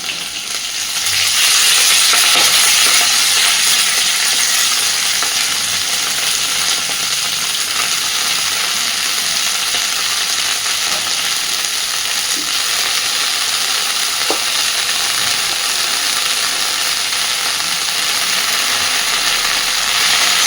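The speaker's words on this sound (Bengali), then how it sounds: "এর মধ্যেই এবার আমি কেটে ধুয়ে রাখা লাউ শাকটা দিয়ে দিচ্ছি।" Chopped bottle gourd leaves with green chili sizzle and fry steadily in a hot pan, a loud continuous crackle with occasional scrape of stirring, no voices.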